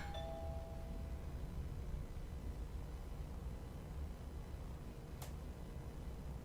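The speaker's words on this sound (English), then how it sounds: "I should just ring the doorbell, see if he answers." A doorbell chimes at the start inside the horror video game Within, two short tonal rings over a steady low hum of ambient noise, followed by a brief sharp click near the end.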